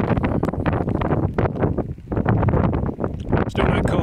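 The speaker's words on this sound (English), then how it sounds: "this is far too windy up here to stop" Strong wind on a hilltop along the South Downs Way buffets the microphone in loud, gusting bursts that rise and fall, with a voice speaking in between.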